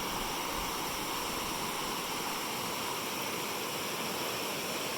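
Breitenbush River flowing steadily nearby, a dense, even rush of moving water with no breaks, moderately loud and alone without any voices.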